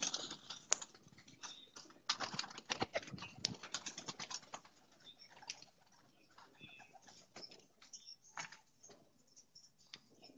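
Pigeons coo close by in a loft, soft repeated calls mixed with busy scratchy clicks and fluttering taps, louder in the first half and thinning toward the end.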